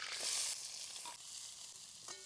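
Onion sizzles in oil in a kadhai over a wood-fired stove, with a bright hiss that swells early and then settles into a steadier crackle, broken by a light clink near the end.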